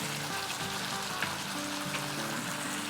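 Garlic, ginger and green chili paste fry with chopped onion in hot oil for an aloo chicken curry, giving a dense, even sizzle and crackle up close that runs continuously without talk.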